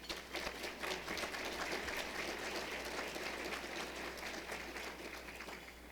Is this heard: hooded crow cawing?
no